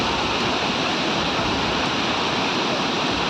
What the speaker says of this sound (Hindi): पहाड़ों से गिरती पानी की ये धार तबाही और बर्बादी का सबब बन गई है।